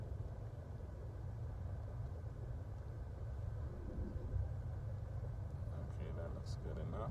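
A car reverses during a Florida driving test, a steady low engine rumble and road noise continuing evenly throughout with no clear gear changes.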